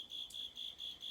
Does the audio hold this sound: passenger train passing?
no